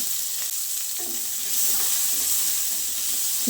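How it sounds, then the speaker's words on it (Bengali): Potatoes rubbed with salt and turmeric fry in oil in a wok, giving a continuous close, loud sizzle with faint stirring scrapes and no voices. "কড়াইতে তেল দিয়ে আগে থেকে নুন হলুদ মাখিয়ে রাখা আলুগুলোকে ভালো করে ভেজে নেব"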